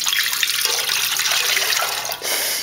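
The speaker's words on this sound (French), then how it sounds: "Ajoutez dans un bol l'eau" Water poured into a mixing bowl for bread dough, a steady close splashing stream that runs almost continuously, with a brief break near the end before it resumes.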